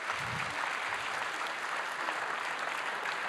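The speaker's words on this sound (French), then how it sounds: "Vous pouvez l'applaudir évidemment" Steady applause from an audience fills the room, sustained and even throughout with no voices rising above it.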